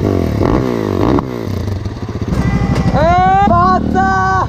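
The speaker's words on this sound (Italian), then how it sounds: "Manca mio fratello che arriva con lo scooter." A scooter approaches at a rally with a loud, buzzing small engine that rises and wavers in pitch as it draws near, revving close by alongside other engine noise and clatter.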